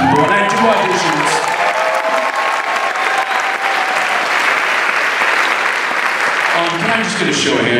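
Sustained audience applause at a spring choir concert, dense and steady clapping from a large crowd lasting throughout, with voices briefly audible at the start and end.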